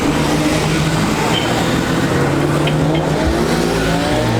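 A green Porsche sports car passes along a road among other Porsches, its steady engine and tyre roar filling the clip loudly and continuously with no talk over it.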